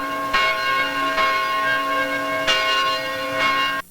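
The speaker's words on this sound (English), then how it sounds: "Wesley Chapel's bell, which still rings from the church's bell tower every Sunday" Wesley Chapel's church bell rings from the bell tower, several resonant strikes about a second apart, each leaving a long humming ring that overlaps the next.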